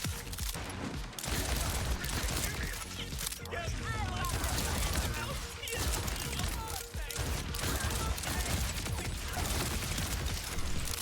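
Rapid pistol fire from a mag dump in Borderlands 4, quick sharp shots layered with mechanical clanks and chaotic game effects, dense and busy across the whole stretch.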